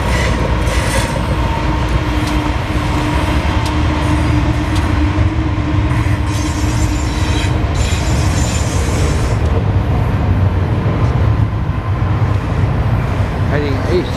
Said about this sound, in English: Here comes a BNSF freight.